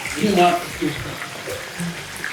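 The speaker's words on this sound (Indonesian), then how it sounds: "Nah kita goreng ini hanya dia sampai golden brown aja." Duck pieces fry in hot oil until golden brown, giving a steady sizzling hiss that continues under a person talking nearby.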